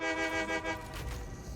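A train in the factory-building game Satisfactory sounds its horn in a loud sustained toot that fades into a low rumbling roll as it gets moving.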